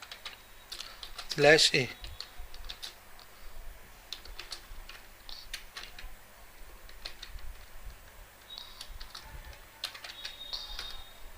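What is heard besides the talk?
typing HTML code on a computer keyboard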